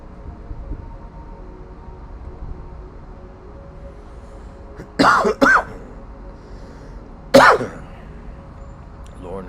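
Three short, sharp coughs: two in quick succession, then a single one a couple of seconds later, over a quiet room hum.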